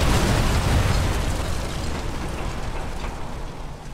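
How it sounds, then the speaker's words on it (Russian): A large explosion in the video game Sniper Elite 3: a loud booming blast up front that fades into a long rumbling decay over several seconds. "взрыв на макаронной фабрике"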